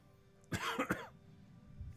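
A single short cough close up, a brief double burst with a throaty edge, surrounded by quiet room noise.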